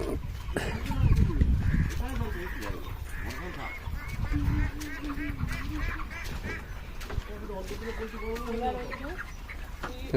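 Village chickens feeding in the open, clucking and calling repeatedly near and far, with a goose-like honking cackle among them and people talking over the birds.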